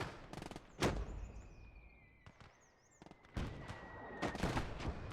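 A grenade burst and gunfire in the World War II strategy game Gates of Hell: several sharp cracks and booming blasts in bursts, fairly distant and faint, with no talk over them.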